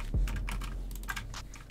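Rapid, irregular keystrokes on a computer keyboard during online gaming, close and crisp, arriving in uneven bursts with no voices.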